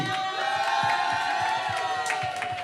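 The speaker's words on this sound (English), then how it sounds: "Give another round of applause for Naomi." An audience cheers and whoops loudly at a live event, a steady roar of crowd voices filling the whole stretch with a sustained tone running through it.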